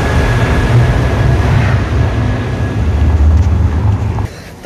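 A Qatar metro train pulls away from the platform with a steady, loud low rumble and rushing noise over several seconds, easing off sharply near the end.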